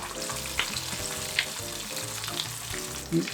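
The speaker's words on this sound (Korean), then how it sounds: "꼬리를 잡고 칼집 넣은 부위부터 이렇게 국자로 기름을 부어주세요" Steady, crackling sizzle of a whole rockfish deep frying in hot oil, with occasional sharper pops and spatters; no voices.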